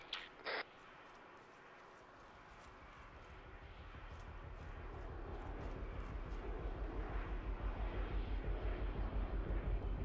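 An aircraft engine spools up on a pad in a military video game, a steady whine and rumble that grows louder and more pulsing over ten seconds after a brief click at the start.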